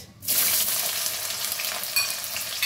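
A large onion dropped into hot oil tempered with dried red chilli in a kadai bursts into loud, sustained sizzling, crackling continuously up close after a brief quiet start.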